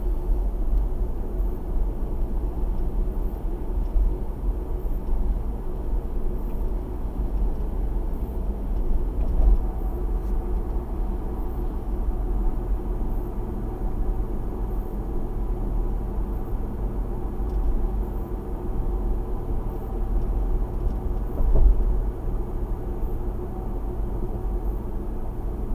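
Inside a moving Ford Bronco, a steady low road and engine drone with tire rumble runs unbroken from start to finish, fairly quiet and free of talk or rattles.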